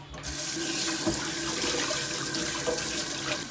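Tap water runs steadily into a kitchen sink while pig liver is rinsed, a continuous bright splashing rush with small shifts as the meat is handled under the stream.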